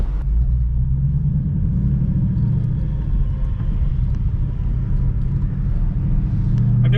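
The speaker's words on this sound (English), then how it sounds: "nice little burbles when you downshift" A Mazda MX5 fitted with a 5.0 Coyote V8 idles and rumbles with a deep, steady low-pitched throb, loud and close, holding an even burble with no talk over it.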